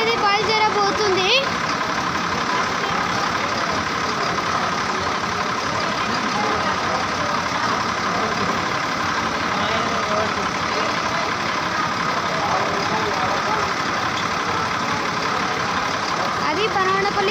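Super luxury bus engine idling at a stop before setting off on a Banaganapalli to Vijayawada service, a steady, close diesel rumble running throughout under people talking.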